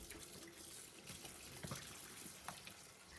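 Tap water runs into a kitchen sink while squid pieces are rinsed under it, a continuous close splashing hiss with small shifting splatters and no talking.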